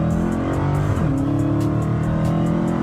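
A red Dodge Hellcat with an SRT engine revs hard, its deep engine note climbing sharply about a second in and then holding a loud, steady roar for the rest of the clip.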